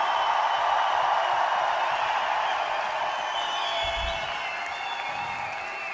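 Festival crowd at Woodstock der Blasmusik applauding the rescue services and fire brigade, a steady broad wash of clapping and cheering that holds throughout and eases slightly toward the end.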